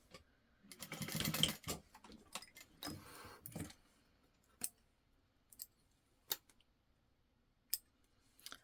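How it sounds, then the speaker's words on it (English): Scissors trim excess elastic off a sewing project, a cluster of close snips and rustles followed by several sharp single clicks spaced apart in a quiet room. "And then I can trim the excess off"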